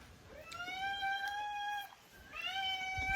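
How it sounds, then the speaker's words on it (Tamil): A cat meows loudly and close by in a home kitchen where spicy masala fish fry is being made, two drawn-out cries with a short pause between them. "பேய் கத்துது பூனை"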